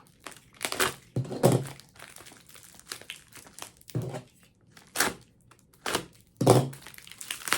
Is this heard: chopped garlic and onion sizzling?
no